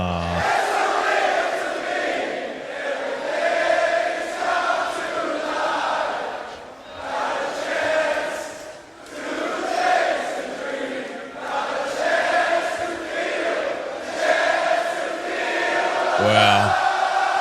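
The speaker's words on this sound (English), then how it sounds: "This is the crowd." A large crowd at an AEW wrestling event in Brisbane roars and chants in loud rolling waves, swelling and dipping repeatedly, with bellows and whoops rising from the mass of voices.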